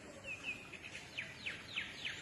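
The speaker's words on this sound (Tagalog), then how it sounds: "Anong ibon kaya yun? Tinatawag ko siyang kikipat." Faint, thin bird calls outdoors, a series of about six short descending chirps repeating at a steady pace against quiet background noise.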